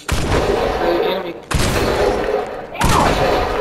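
Three loud gunshot bursts in the video game Fortnite, each cutting in sharply and sustaining with rattling reverb, evenly spaced across the clip with no voices over them.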